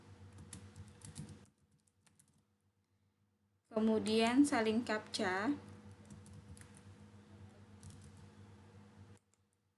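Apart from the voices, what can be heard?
typing on a computer keyboard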